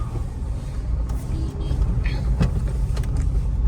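A car rolling slowly through a cancer hospital parking lot in Chandigarh, giving a steady low engine and road rumble from inside the vehicle, with faint clicks and brief higher tones over the constant drone.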